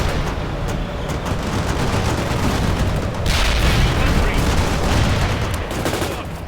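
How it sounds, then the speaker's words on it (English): Dense battlefield fire in the real-time strategy game World in Conflict as an APC returns fire: continuous overlapping gunfire, booms and artillery rumble forming a loud, chaotic wall of combat noise, with voices faintly mixed in. "APC is returning fire"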